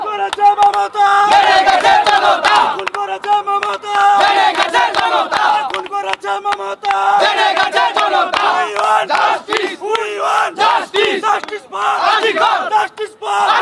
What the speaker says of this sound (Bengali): ব্যারিকেডের একেবারে সামনে যারা আন্দোলনকারীরা তারা লাগাতার স্লোগান দিচ্ছেন